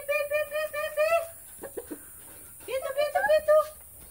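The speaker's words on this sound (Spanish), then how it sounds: "le está dando de comer a los pollitos." Chicks cluck and chirp in bursts of high, rising calls while being fed corn, close by, with a brief quieter gap in the middle.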